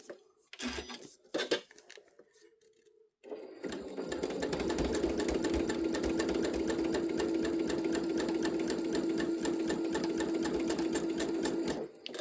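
A sewing machine stitching round and round through scrappy fabric pieces: a few soft handling clicks first, then a steady, close mechanical whir with rapid rhythmic needle chatter that runs continuously for several seconds.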